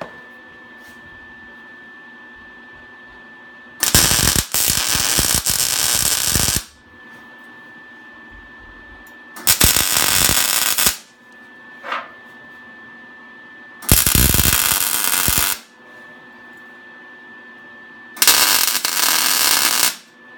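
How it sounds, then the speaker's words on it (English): MIG welder tacking a horseshoe sculpture to its base: four loud, crackling bursts of about two to three seconds each, separated by quiet pauses with a faint steady hum. "the base is welded to the bottom 4"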